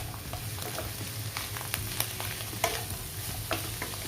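A spoon stirs chopped carrots and cabbage in a pot of soup, with soft scraping and light clinks over a steady low sizzle, quiet and close.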